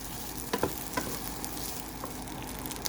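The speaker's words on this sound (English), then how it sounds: "You want to stir fry your rice again." Bacon fried rice is stir-fried in a pan, giving a soft, continuous sizzle with a few faint scraping and clinking stirs, heard alone without any voices.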